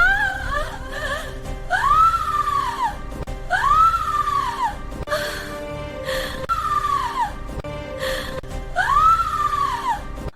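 A girl whose cheek was burned with a hot rod in a palace screams in agony, with five loud, drawn-out wailing cries, each rising then falling, separated by short gasping pauses.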